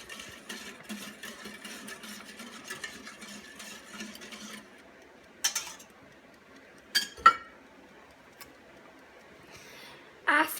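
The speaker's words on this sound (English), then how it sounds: "Mix it up." Crème brûlée ingredients being mixed by hand in a bowl: a quick run of busy utensil clinks and scrapes for about four seconds, followed by a few sharp, isolated taps against the dish, with no voices.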